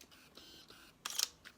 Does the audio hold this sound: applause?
no